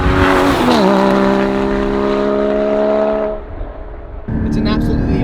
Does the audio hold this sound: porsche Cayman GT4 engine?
yes